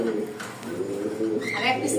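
Fancy pigeons cooing at a farm selling Lahore, Shaking and Jacobin breeds, soft low coos rising and falling under a woman's and a man's conversation throughout, with faint higher bird chirps near the end.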